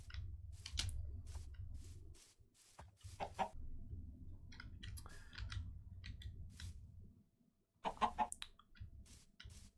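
Chickens clucking on a Minecraft farm alongside horses, short close clucks and clicks in scattered bursts over a low background hum, with a few gaps of near silence.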